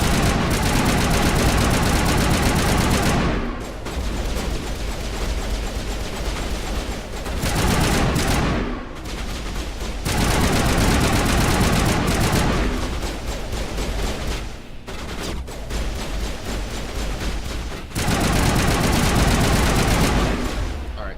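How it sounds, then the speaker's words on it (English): Assault rifle fire in Mass Effect Legendary Edition: long, loud sustained automatic bursts broken by brief pauses, each stretch a dense rattling stream of shots. "Switch to the assault rifle."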